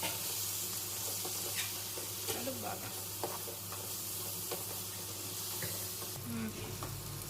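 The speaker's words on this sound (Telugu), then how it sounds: "1 టేబుల్ స్పూన్ ధనియాల పొడి, 1 టీ స్పూన్ జీలకర్ర పొడి, 1 టీ స్పూన్ గరం మసాలా, అలాగే పుదీనా కొత్తిమీర కూడా యాడ్ చేసుకొని మొత్తం బాగా ఫ్రై చేసుకోవాలి." Coriander powder, cumin powder, garam masala and mint fry in a pan, a continuous close sizzle with scraping stir strokes throughout and a louder hiss near the end.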